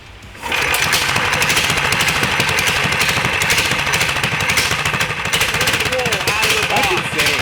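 A brand-new Ghost engine on a mini trike fires up for the first time. It catches after half a second and settles into a loud, rapid, steady staccato run close by.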